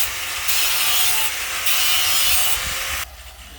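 Steel rod being sharpened to a point during door-frame installation: a harsh, steady rasping grind in several loud, even strokes, ending abruptly into quieter background. No one speaks.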